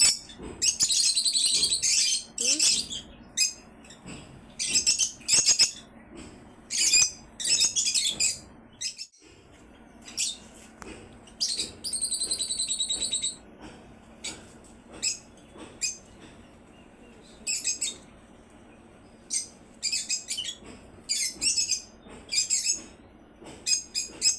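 A pigeon at close range gives bursts of sharp, scratchy calls and flutters, with irregular clusters of sound separated by short quiet gaps.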